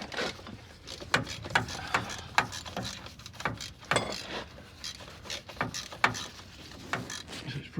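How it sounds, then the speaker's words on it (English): A wrench working the last bolt off a 1973 GMC motorhome during a repair; a series of close metallic ratcheting clicks and clanks in irregular bursts, with no talk. "So now let's take this last bolt off here."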